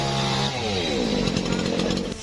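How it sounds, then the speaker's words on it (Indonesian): A chainsaw cuts into a large fallen tamarind tree on a roadside in Kendal, Central Java, during a rescue: a loud, steady motor whine that shifts in pitch as it bites, with a busy background of people. "Proses evakuasi korban berlangsung dramatis dengan menggunakan gergaji mesin."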